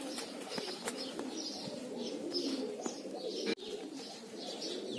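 Pigeons cooing outdoors in repeated soft low coos, several birds overlapping, with a few faint chirps and a steady background hiss.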